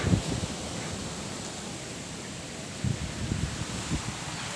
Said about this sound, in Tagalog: Angin.